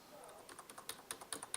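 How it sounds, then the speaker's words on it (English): Computer keyboard typing as the M and N keys are pressed, a string of crisp, separate clicks that grows louder and quicker toward the end, heard alone with no voice. "I'm going to use my M and N keys."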